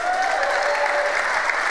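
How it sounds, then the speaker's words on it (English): A summit audience applauds the governor in a steady, dense burst of clapping that holds at an even level throughout the short stretch. "Can we give a round of applause for the governor?"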